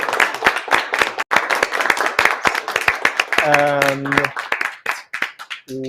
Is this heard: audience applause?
yes